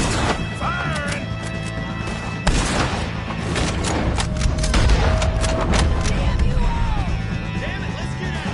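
Shootout gunfire in Red Dead Redemption 2, with repeated loud shots and crashes over a continuous battle din while voices shout orders.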